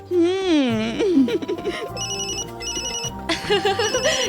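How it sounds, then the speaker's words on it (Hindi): A telephone ringing indoors during a family welcome scene in an Indian drama, repeated electronic ring bursts over lively overlapping voices and background music, fairly loud throughout. "गजाला का फोन"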